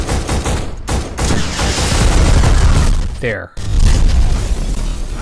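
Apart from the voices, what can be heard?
shotgun fire in the video game Black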